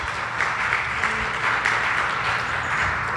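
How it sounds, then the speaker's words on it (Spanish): A church congregation applauds the Lord during a service, a steady, dense wash of clapping that holds at an even level throughout with no breaks. "Dele un aplauso al Señor"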